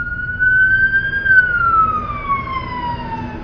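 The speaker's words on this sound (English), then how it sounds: "excuse the siren." A single emergency siren wails outside at midday, a long rising then slowly falling tone drifting past at a moderate distance over low street hum.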